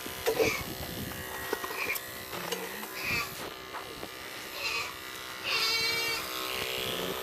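Electric clippers buzz steadily while trimming a dairy goat's long hair, close and continuous, with the pitch shifting as the blades press into the coat, and brief bleats or rustles mixed in.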